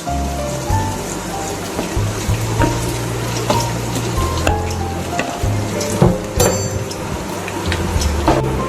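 Colocasia-leaf muthiya tipped into a hot tempering of fenugreek seeds and white sesame, giving a steady close sizzle that sits under background music.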